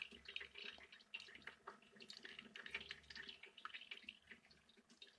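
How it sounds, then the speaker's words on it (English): Keurig coffee maker brewing a cup while powered through a 2000 watt Samlex inverter, giving a faint, continuous splashing and trickling of water with small irregular spatters and no talking. "Kind of splashes a bit when it runs like this"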